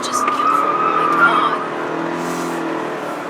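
Toyota Camry SE Hybrid sedan cornering hard with understeer, its tires squealing in a sustained high whine for over a second before fading, under a steady road and engine drone with a voice speaking.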